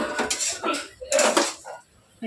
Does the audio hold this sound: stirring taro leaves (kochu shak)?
yes